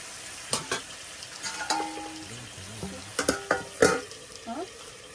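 Dinner frying in a pan, with a steady sizzle under scattered clinks and scrapes of a utensil stirring against the pan, close and fairly quiet.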